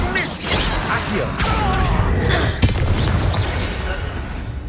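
Spell effects in Hogwarts Legacy include an Accio cast, heard as whooshes, booms and clinks in a busy game mix, with a voice calling out incantations over the effects.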